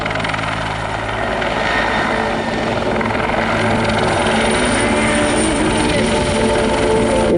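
CH-146 Griffon helicopter pirouetting low along a shoreline at an airshow, its loud continuous rotor thrum and turbine whine filling the air, with faint talk underneath.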